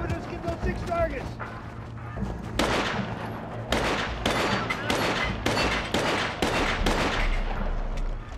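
Soldiers firing an M9 pistol and M4 rifle at targets during training, rapid bursts of sharp shots in an irregular volley, loud and close, with voices talking over the gunfire.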